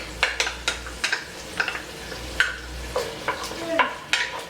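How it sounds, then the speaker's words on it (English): Garlic tossed into translucent sautéing onions in a pan, with steady sizzling broken by repeated spoon-scraping stirs, close and moderately loud, no talking. "So I'm going to go ahead and add in our garlic."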